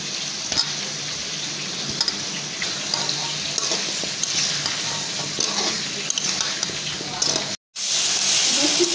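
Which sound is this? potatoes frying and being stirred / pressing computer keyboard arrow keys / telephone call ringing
potatoes frying and being stirred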